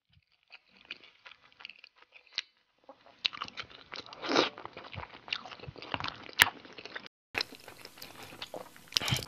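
Lotus root being bitten and chewed, loud crisp crunches close to the mic, sparse at first and then coming in dense bursts, with no talk.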